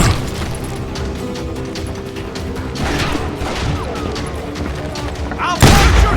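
Shotgun blasts and rapid gunfire crash through a shootout in Call of Juarez: Gunslinger, dense and continuous with loud booms, one especially heavy near blast near the end.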